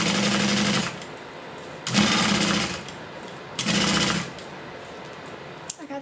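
A Juki 1181 sewing machine stitches in three loud, rapid bursts of about a second or two each, separated by quieter handling noise, with no talk.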